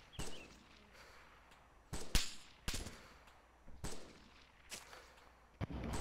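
Gunfire in the video game Wasteland: sharp, scattered shots crack out at irregular intervals, some close and loud, others more distant, over a quiet background with no talk.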